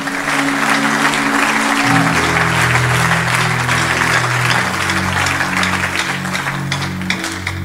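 Church congregation clapping in sustained, dense applause, loud and close throughout, with a low sung or spoken tone running underneath.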